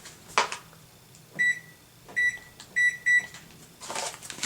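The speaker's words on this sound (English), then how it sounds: "let me set the timer." A small digital kitchen-style timer beeps as its buttons are pressed, giving four short electronic beeps spaced about half a second apart, clear and close, with faint clicks and handling noise around them and no talking.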